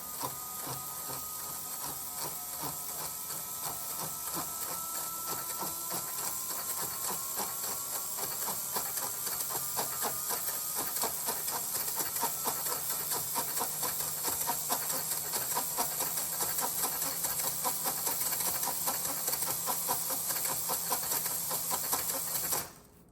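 A small motor driven by an ESP32 with PWM-varied speed whines and buzzes steadily for over twenty seconds, its pitch gliding as the speed changes, close-miked and continuous before cutting off abruptly.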